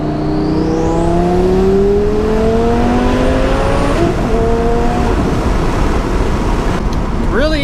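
The twin turbo engine of a 1106 whp Lamborghini Gallardo accelerating hard, a loud roaring note climbing steadily in pitch with a rising turbo whine, heard close from inside the car through one long pull.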